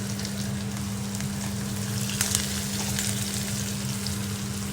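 Tender ivy gourds frying with turmeric in hot oil, giving a steady, close sizzle with a faint crackle and an occasional stir, continuing without a break and with no talking.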